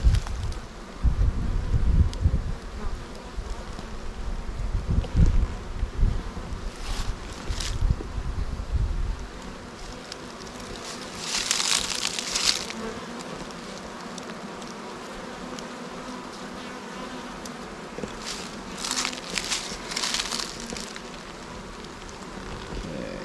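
Bees from a newer hive started from last year's swarm buzzing around it, a steady hum with louder passes close by and occasional wind rumble, no voices.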